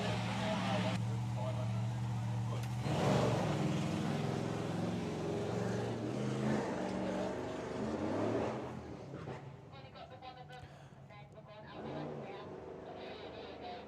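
Andy Clifford's Snake Eyes, a Wild Bunch drag racing car at Dragstalgia, roars loudly and steadily down the strip, its engine note rising and fading, with a commentator talking over it throughout.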